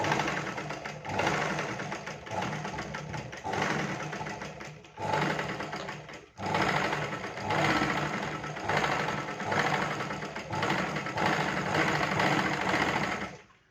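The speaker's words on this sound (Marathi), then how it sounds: "आता इकडे पण असं शिवून घ्यायचं." A sewing machine stitches a blouse in long, steady runs of rapid mechanical chattering, briefly pausing between seams, close and continuous throughout.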